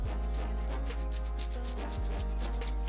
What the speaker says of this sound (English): you can hear it scratch my face